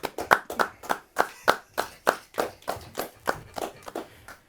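Slow, loud claps ring out one at a time, about a dozen in an even rhythm that gradually softens, on a casual street-interview talk show.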